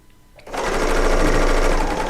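A serger sewing machine starts up piecing quilt fabric, a fast, loud, continuous mechanical whir that runs alone after a brief quiet lead-in.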